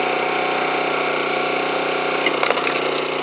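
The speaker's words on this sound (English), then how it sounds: "So this piece has a lot of knots. This is a 25-ton log splitter." A 25-ton log splitter rescued from the landfill drones with a steady engine hum, then knotty wood cracks and splinters near the end in a short burst of loud snaps.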